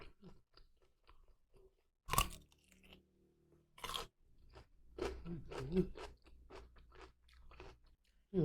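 Close-up chewing of rice mixed with crispy fried egg and shallots: loud crunchy bites followed by a steady run of wet, crackly mastication, with small mouth sounds in between.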